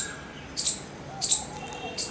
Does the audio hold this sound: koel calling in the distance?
yes